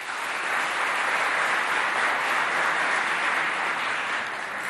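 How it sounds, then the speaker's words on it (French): A school quiz audience claps for six students, an even, continuous burst of moderate applause with no pauses, like a crowded hall cheering its competitors. "Applaudissez pour les 6, s'il vous plaît."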